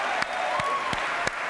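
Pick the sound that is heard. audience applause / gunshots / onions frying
audience applause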